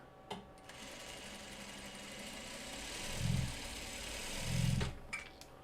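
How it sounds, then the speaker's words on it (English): A sewing machine stitches a seam on a quilt block, a steady close mechanical whir that runs for several seconds and swells twice as the pace picks up, with a few handling clicks at the start and end. "we're going to sew on the other side for a 1/4 inch away from that diagonal line"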